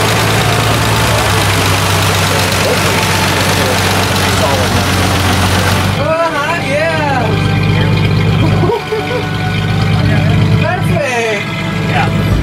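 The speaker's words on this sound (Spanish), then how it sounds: "La dejamos calentar un poquito la camioneta." A pickup truck with a new radiator and reworked exhaust idles steadily while warming up, a loud continuous engine rumble with a brief shift partway through.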